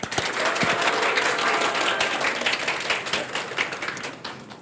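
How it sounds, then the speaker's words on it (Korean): Audience applause welcoming a professor's lecture at a parenting institute launch ceremony in Korea, a crowd clapping briskly and loudly, then thinning out toward the end. "최재천 교수님의 강의를 큰 박수로 청해 듣겠습니다"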